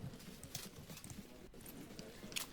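Hoofbeats of nomad light horse archers in the strategy game Field of Glory 2, a steady clatter of many hooves with scattered sharp clicks and impacts, moderately loud over a busy battle din.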